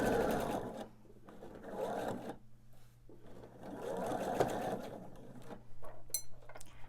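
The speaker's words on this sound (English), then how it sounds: "And sew to the end of my block." A sewing machine stitches a quilt block in steady bursts, its motor buzzing and clattering close by, pausing briefly between runs before starting up again.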